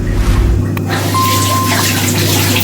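Tap water runs steadily from a faucet to wet hands while smoothing a tray of basbousa dough in a home kitchen, a continuous close splashing wash with a thin tonal whine partway through.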